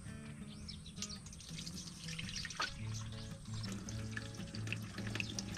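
Ground meat for homemade country-style hotdogs being washed by hand in water, with steady close sloshing, swishing and dripping and no talk.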